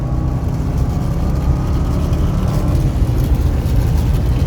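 A 2005 BMW 645ci's 4.4-liter V8 pulls hard under acceleration, a loud, steady low-pitched drone and rumble heard from inside the car, building smoothly without a break.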